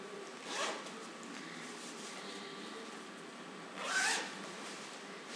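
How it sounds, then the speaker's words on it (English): A cloth diaper bag is unzipped in two quick, soft zipper pulls a few seconds apart, with quiet room hiss in between. "You just hold it up and then unzip and dump into the laundry."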